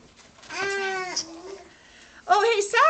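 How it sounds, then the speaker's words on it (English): Cats meowing in the dark of a haunted house: two drawn-out, wavering meows separated by a brief pause, fairly loud and close. "Oh, hey, sorry about that, cats."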